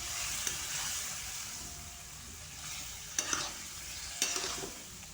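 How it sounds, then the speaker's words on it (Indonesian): Stir-fried genjer (yellow velvetleaf) being stirred in a pan with a little water, a soft steady sizzle broken by a few sharp scraping clacks of the utensil against the pan, fairly near, with no talking. "Kemudian kita aduk-aduk."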